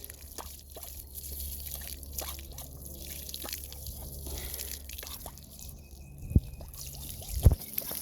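Water from a garden hose spatters and drips in the background while a dog snaps at the stream, its bites coming as a few sharp, close splashes near the end.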